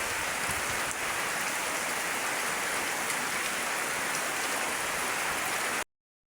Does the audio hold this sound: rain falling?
yes